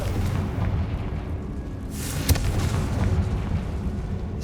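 A Confringo spell explosion in the video game Hogwarts Legacy: one short, muffled blast bursts out midway over a steady low rumbling background.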